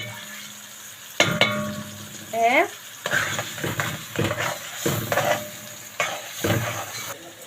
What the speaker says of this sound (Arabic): نحط عصير الطماطم